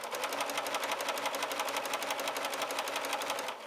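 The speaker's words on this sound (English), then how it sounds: "And we're ready to start sewing." A sewing machine runs continuously, stitching nylon ruffles for a pettiskirt, with a fast, even mechanical chatter at a steady pace, fairly quiet and close, without speech.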